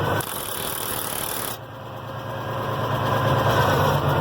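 A tractor running close by as its hydraulics lower a 470 disc harrow: an idling engine with a rattle, a sudden shift in tone partway through, then a rising, strained hum, with no talk.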